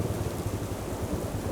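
Steady rain hisses over the Patriata valley as a dense, even wash of noise, with a faint low rumble underneath.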